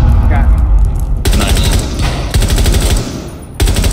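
Rainbow Six Siege gunfire rattles in loud rapid automatic bursts with hard cut-offs between them, layered over dense booming combat noise while a voice talks.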